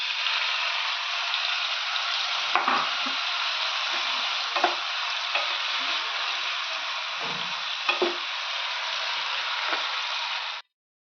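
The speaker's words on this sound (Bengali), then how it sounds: "তেলটা একদম গরম হয়ে গেছে, এবারে কুচিয়ে রাখা পেঁয়াজগুলো তেলে দিয়ে দিচ্ছি" Chopped onions fry in very hot oil, a steady broadband sizzle that holds evenly for about ten seconds, with occasional stirring clatters, then cuts off abruptly.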